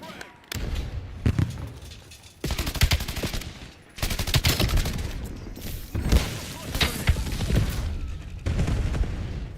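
Call of Duty Black Ops 7 firefight during a Quantum Exchange event, loud sustained automatic gunfire in dense bursts with heavy thumps from an incoming frag grenade, close and nearly continuous.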